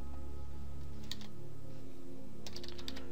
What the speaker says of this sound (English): if I can type my name